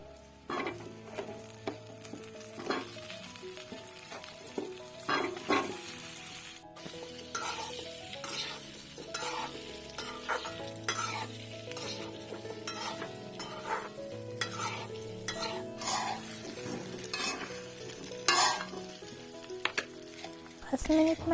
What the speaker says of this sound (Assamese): মছলাবোৰ ভালকৈ ভাজি লোৱাৰ পিছত মই এড কৰিম জলফাইবোৰ